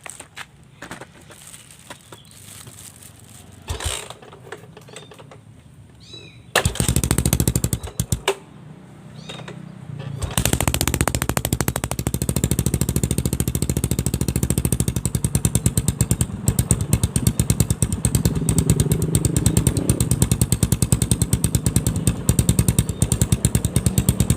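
A Yamaha Scorpio motorcycle with a cheap aftermarket manifold starts up after a few quiet clicks and then idles loudly and steadily nearby, its engine giving a rapid, continuous rattling putter.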